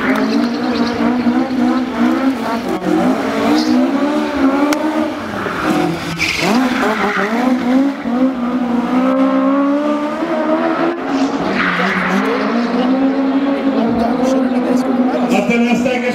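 A rally car driven by Petter Solberg at the 2012 Oslo Motor Show skids and revs continuously and loudly, its engine note rising and falling under steady commentary talk throughout.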